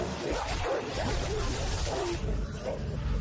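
Zombie dogs in an audio drama, low growling yips and snarls rising from a thick, roaring wall of noise, continuous and close, without speech.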